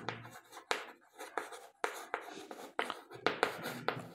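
Pen strokes on paper during a geometry lesson about triangles, a close series of short scratchy bursts in an irregular rhythm with brief pauses between them, no talk.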